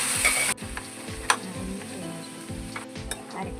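Masala and half a kilo of mutton with onion sautéing in a pan, a steady close sizzle with rhythmic stirring scrapes of the spoon, no talking.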